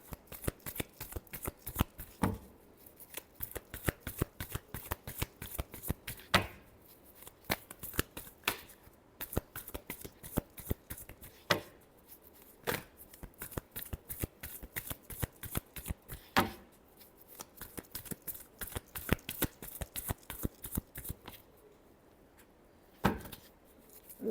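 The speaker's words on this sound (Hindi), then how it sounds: "Last shuffle." Tarot cards are shuffled by hand in rapid repeated riffles and cuts, crisp close flutters and snaps coming in quick irregular bursts with short pauses between.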